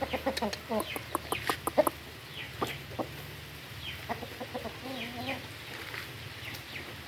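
Short clucks from a rooster, scattered irregularly over several seconds, with a faint continuous background hum.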